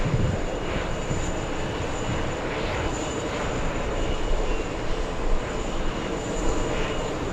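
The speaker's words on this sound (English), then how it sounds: "The A220 Delta Airlines taking off on runway 4 left." Delta Airlines Airbus A220 taking off from runway 4 left at JFK airport, a steady, loud engine roar that holds for the whole stretch with no voices.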